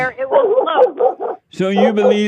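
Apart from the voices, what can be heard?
dog barking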